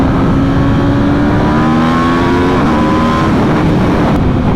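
2024 Aprilia RSV4 1100 Factory superbike accelerating hard on a road ride, a loud, close engine roar with rising then shifting revs that dominates throughout.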